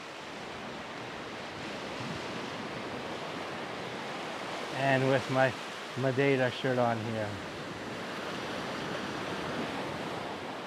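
Ocean waves wash ashore at the beach in Seixal on Madeira's rugged northern coast, a steady broadband surf roar running throughout, with someone talking briefly over it midway.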